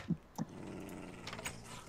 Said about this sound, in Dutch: Waarom grommel mijn honden nou?